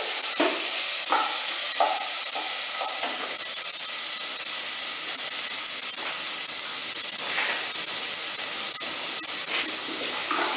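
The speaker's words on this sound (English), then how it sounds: "Once the onion got a little brown, I added chana dal and I toast it a little bit." Chana dal toasts with browned onions in a pan, a constant soft sizzle and hiss with occasional stirring scrapes and light crackles throughout.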